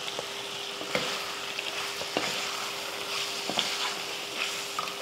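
Masala sizzles and fries in a pan with green chilies and curry leaves, a steady soft hiss broken by occasional clinks and scrapes of a stirring spoon.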